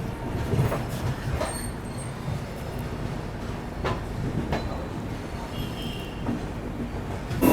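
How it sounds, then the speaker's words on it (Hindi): A Chennai local train runs alongside the Pearl City Superfast express just after leaving Chennai Egmore, giving a steady rumble of wheels on rail with faint metallic squeals, close and continuous throughout. "तो देखो चेन्नई एग्मोर निकलते ही पैरेलल चल रहा है चेन्नई की लोकल ट्रेन के साथ।"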